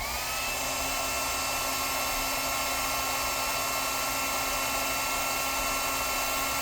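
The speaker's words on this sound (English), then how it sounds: "so I'm just going to turn it on low and put it near" A steady, high-pitched electric whine of a hair dryer running on its low setting continuously at a constant level, with no talking over it.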